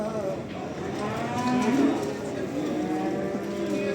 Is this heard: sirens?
no